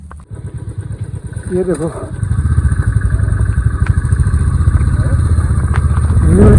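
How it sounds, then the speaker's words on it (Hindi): A motorcycle ridden in monsoon rain on a mountain road near Chopta rumbles loudly up close with a steady engine chug that builds slightly. Someone talks briefly over it near the start. "बारिश में चला रहा हूँ मैं बाइक।"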